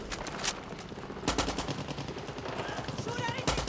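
Rapid gunfire from a fast-firing gun in Far Cry 6, heard during a boss fight: dense bursts of shots running through the whole stretch, loud and close, with game noise mixed underneath.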